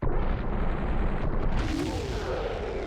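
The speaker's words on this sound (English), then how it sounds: "I love his death animation the most, how he just starts kind of bloating up and exploding" In Ocarina of Time's Dodongo's Cavern, the boss's death plays out as a loud, rumbling explosion sequence of continuous booming blasts that fades slightly toward the end.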